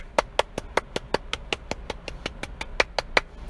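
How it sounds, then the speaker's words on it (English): A steady run of sharp hand claps, about fifteen in quick even rhythm, close and clear with no talk over them. "I'll give you the hand claps you want"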